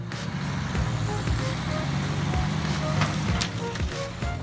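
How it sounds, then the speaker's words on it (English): A Mercedes-Benz 3340 truck hauling a fully loaded timber trailer with a second trailer in tow on rugged terrain, its engine a steady loud drone with a rough low rumble throughout. "Up next is the mighty performance of the Mercedes-Benz 3340, hauling a fully loaded timber trailer with another similar trailer in tow."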